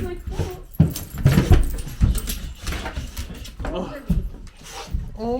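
Mabel, a pet dog, greets her returning owners with excited whimpers, yelps and scrabbling, mixed in among their close, lively overlapping voices.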